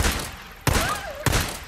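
Gunfire in Days Gone, two sharp, loud shots a little over half a second apart against dense game background noise, a faint whistling tone drifting between them, with no talk.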